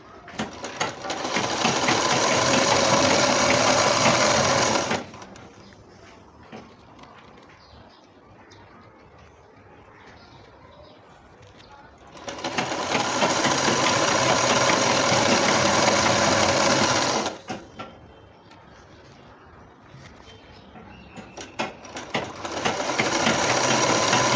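Sewing machine stitching a straight seam along a namaz dupatta, running in three steady bursts separated by quiet pauses, close and loud.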